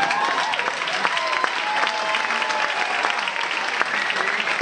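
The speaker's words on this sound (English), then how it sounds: "give him a round of applause" Steady, enthusiastic applause from a storytelling event audience, dense clapping that holds at an even level throughout with no voices breaking through.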